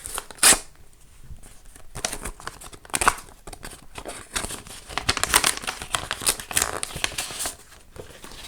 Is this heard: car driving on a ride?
no